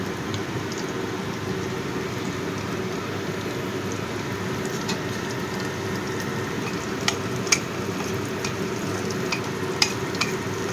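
Panch phoron spices frying in hot oil in a pan, a steady soft sizzle and crackle with occasional sharp pops, heard up close without talk.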